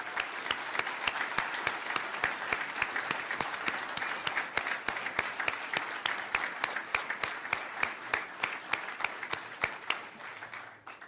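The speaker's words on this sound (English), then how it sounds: "a grateful round of applause" Audience claps at a political acceptance speech gathering for a campaign family, a steady, dense round of applause with sharp individual claps standing out, continuing for about eleven seconds before tapering off.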